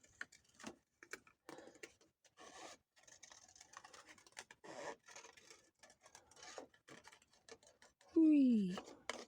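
Tim Holtz scissors rapidly snip through paper ephemera, giving a quick, irregular run of soft, close cuts and rustles that ends with a short, high vocal exclamation.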